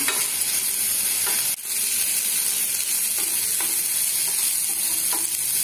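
Cabbage sautéing in a pan for a chutney, with a steady close sizzle and intermittent scrapes of stirring throughout, no voices.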